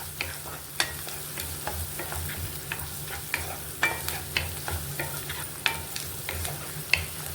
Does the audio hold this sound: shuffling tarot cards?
no